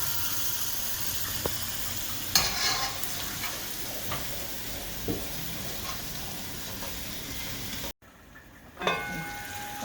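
Taro (edo) fries in a pan with a soft, steady sizzle close by, broken by a few utensil clinks and a brief gap near the end.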